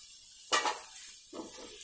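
Rice for tomato rice drops into a pan with a soft hissing rustle, then a second quieter scrape and shuffle as it is stirred, faint and close.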